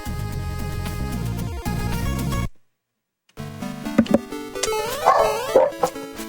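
Dogs bark in short yips over loud game music and sound effects, broken by a moment of silence.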